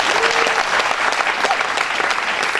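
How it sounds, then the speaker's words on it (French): Dense, enthusiastic clapping from a wedding crowd, loud and continuous for a few seconds. "Applaudissez pour lui, s'il vous plaît."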